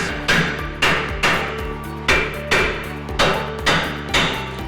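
A hammer strikes the side of a Nissan Titan lower control arm to shock a ball joint loose, ten loud metallic blows in a slow, steady rhythm with ringing between hits.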